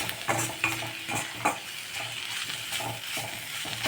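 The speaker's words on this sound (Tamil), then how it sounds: "மிளகாய் தேங்காய் ஜீரகம் எல்லாம் வதங்கியாச்சு" Chilies, grated coconut and cumin sautéing in oil for spinach rice, with irregular stirring scrapes against the pan over a low, constant sizzle, heard up close with no talking.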